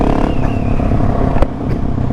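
A Husqvarna 701 Supermoto motorcycle runs close by, its engine note steady and loud with a throaty revving drone and one sharp clack partway through; no one speaks.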